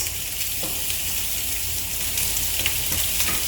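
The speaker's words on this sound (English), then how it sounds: "Our prawns are cooking nicely" Prawns frying in a pot make a dense, even sizzle and crackle, close and continuous for a few seconds, with faint stirring clicks.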